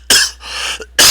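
A cough lands right into the microphone, followed by a second, quieter throat-clearing cough and then another loud burst, close and sharp, with no talking over it.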